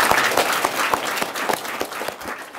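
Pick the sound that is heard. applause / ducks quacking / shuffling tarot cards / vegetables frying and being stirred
applause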